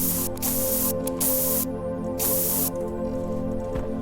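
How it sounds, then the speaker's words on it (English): Spray painting objects in the space survival game Stationeers makes a loud, continuous hissing spray that runs throughout, broken by a few brief gaps. "let's just spray paint some stuff in a different color."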